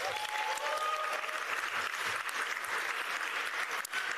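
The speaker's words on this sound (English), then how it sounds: "Let's give her a round of applause." Sustained audience applause at a sports awards ceremony in the Northern Territory, dense and steady clapping from a large crowd that holds evenly throughout with no speech over it.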